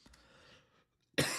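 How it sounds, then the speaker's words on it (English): A single sharp, close cough bursts out loudly after a moment of quiet shuffling. "Again, sorry for the coughing."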